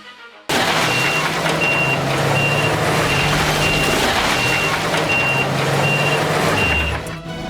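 A heavy dump truck on a work site sounds steady, evenly spaced reversing beeps over a loud, continuous diesel engine rumble, close and prominent throughout.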